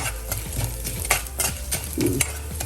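Whole black pepper and cumin seeds frying in a pan of oil for garlic Mysore rasam, with a spoon stirring and scraping through them in short, irregular strokes over a soft sizzle.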